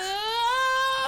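A voice imitates the high, thin whine heard near a bassoon, a single sustained nasal tone rising slightly in pitch for about a second, close and alone.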